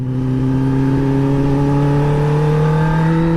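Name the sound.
motorbike accelerating on a ride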